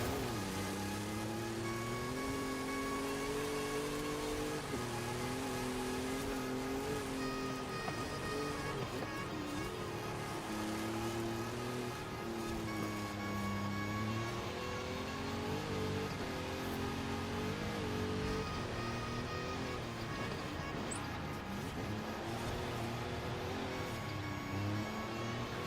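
Car engine from the Forza Horizon 5 racing game, a steady droning whine that shifts pitch with gear changes and throttle, running continuously throughout without speech.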